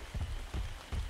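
Rain falls in the video game ARK: Survival Evolved as a steady hiss of downpour, with soft low thumps recurring roughly every half second beneath it. No voices are heard.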